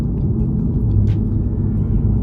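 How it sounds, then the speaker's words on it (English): Low, steady rumble of the BMW-sourced straight-six in a new Toyota Supra, heard from inside the car as a continuous droning hum with no talking. "it's that familiar BMW straight six noise."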